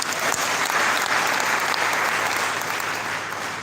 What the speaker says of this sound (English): I want to give God a massive round of applause.